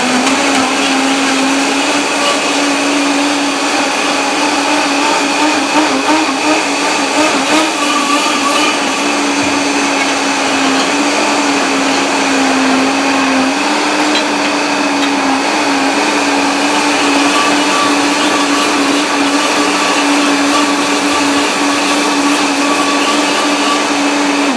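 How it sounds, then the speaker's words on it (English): A blender whirring through peeled bananas for cornmeal porridge, a loud continuous motor drone with a steady pitch that runs unbroken the whole time. "I'm gonna go in with the bananas and blend that up"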